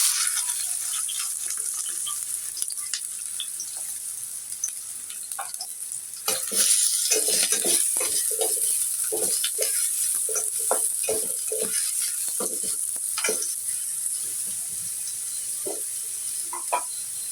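Chopped onions fry in a generous amount of oil for a prawn dish, giving a steady bright sizzle with scattered clinks and scrapes of stirring that grows louder and busier about a third of the way in, with no talking.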